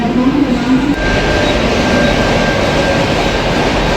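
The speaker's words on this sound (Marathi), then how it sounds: "आता ट्रेन लागली आहे चर्चगेट फास्ट फास्ट लोकल" A Churchgate fast local train at Virar station, loud continuous rumble and rail roar close by, with a faint squealing tone on top, steady and unbroken with no talk.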